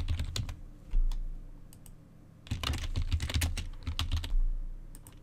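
Fingers type on a computer keyboard into a Windows 10 Settings search, close, crisp key clicks in two quick bursts separated by a short pause.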